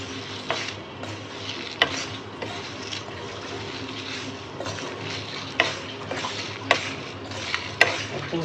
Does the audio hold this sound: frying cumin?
yes